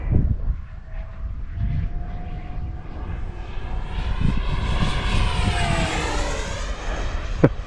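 A Freewing Vulcan RC model jet streaks past outdoors, its ducted-fan whine rising and sweeping in pitch as it flies by fairly close, with steady wind-like rush underneath and no speech.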